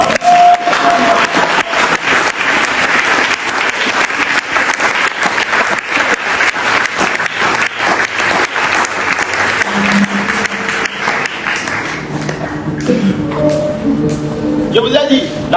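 A church congregation at a French-language prophetic worship service applauds and cheers steadily, with loud, dense clapping and voices filling the room before the noise thins toward the end.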